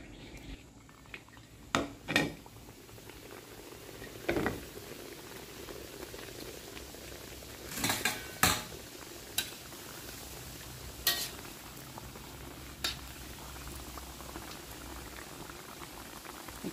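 Giant curry puffs frying in oil over low heat, a steady soft bubbling bed with scattered louder pops and crackles breaking through at intervals; no talk.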